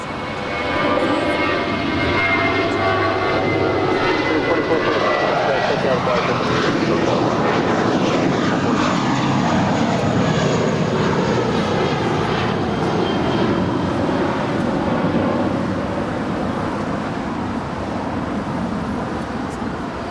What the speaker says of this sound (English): That right there is Southwest Airlines Flight 3041 coming in from Salt Lake City